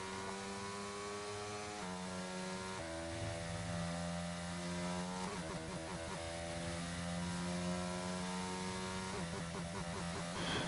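Racing car engines from a Spanish Grand Prix race in a racing video game, a continuous loud, buzzing drone with rising and falling pitch as gears shift, steady throughout with no talk over it.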